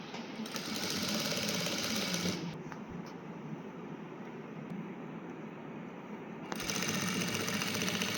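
A sewing machine stitches a full skirt in bursts of fast, steady whirring, running for about two seconds, pausing through a quieter stretch of room noise, then starting up again near the end.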